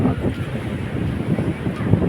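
Strong wind buffets the microphone on a sunny beach at sunset, a steady loud rushing roar with faint surf underneath and no voices.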